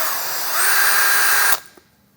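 A cordless battery drill runs at its slow speed with a steady, close, high-pitched whir that lasts just over a second and a half, then stops abruptly, leaving a faint click and near silence.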